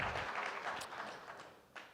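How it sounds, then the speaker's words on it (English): Conference audience giving a round of applause, a dense wash of hand claps that stays steady and slowly fades over two seconds, with a sharper clap or thump near the end. "I think this is a round of applause worth"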